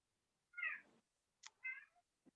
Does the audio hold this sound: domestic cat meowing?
yes